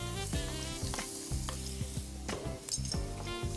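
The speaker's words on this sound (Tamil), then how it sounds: "ஸோ இது நல்லா வதங்கட்டும். ஸோ வெங்காயம் வதங்கிட்டுருக்கு." Onions, green chillies and ginger-garlic paste sauté in hot oil, a loud, steady close sizzle with repeated scraping stirs of a spoon against the pan and no voices.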